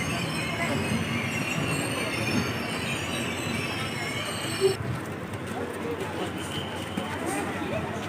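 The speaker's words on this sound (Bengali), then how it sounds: "ট্রেন যাত্রা শুরু হয়েছে। আস্তে আস্তে ট্রেন যাচ্ছে তার নিজের গতিতে।" A train starts its slow journey towards Kamakhya in Assam. It rolls along the rails with a continuous rumble and faint wheel squeal, and voices carry in the background throughout.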